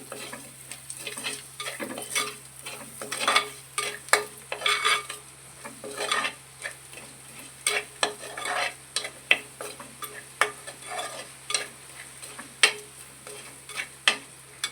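Spices for fish curry sizzle and crackle in a hot pan while a spoon scrapes and stirs in repeated bursts, close and clear, with no voices.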